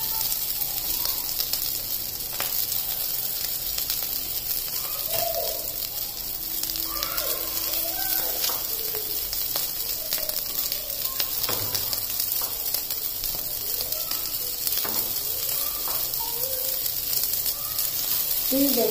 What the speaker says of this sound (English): And on medium flame, we are supposed to roast them.